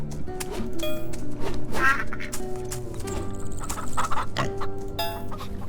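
Ducks and farm fowl quacking and clucking in the Farm Together video game, a busy chorus of repeated calls over a steady background ambience, fairly close and loud.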